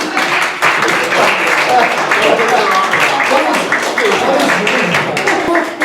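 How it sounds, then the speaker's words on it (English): Audience applause at a magic show rises quickly and holds as dense, loud clapping throughout, with a few voices and cheers mixed in. "A round of applause."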